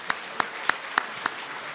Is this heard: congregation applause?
yes